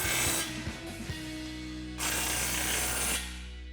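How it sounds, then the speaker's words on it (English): A pneumatic impact gun fitted with a 15 mm socket tightens exhaust flange nuts on a Bronco during a cat-back install, sounding as two close, loud rattling bursts separated by a short pause. "I'm going to use my 15 millimeter socket on an impact gun and tighten up those 2 flange nuts."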